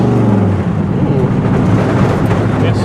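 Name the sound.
rattling from a 1957 Chevy while driving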